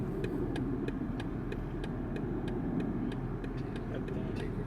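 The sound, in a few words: BMW car audible warning tone while reversing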